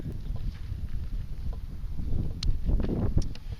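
Steady low rumbling wind buffeting a microphone outdoors on a chilly day near 40 degrees, a breeze of about 5 miles an hour, with gusts swelling toward the end and no voices.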